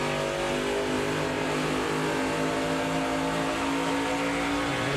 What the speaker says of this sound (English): He lifts off the throttle to give the 18-car a spot to get in line.